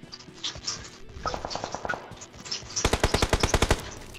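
Rapid automatic gunfire in the mobile battle game PUBG Mobile, a short burst of shots, then a brief pause before a louder, faster string of about a dozen sharp reports, close and punchy.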